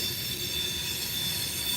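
Freight train wheel flanges squeal around Horseshoe Curve, a loud, piercing high-pitched screech that holds steady over a low rumble of rolling cars.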